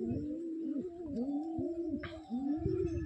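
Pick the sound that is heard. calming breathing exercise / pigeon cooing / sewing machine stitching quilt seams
pigeon cooing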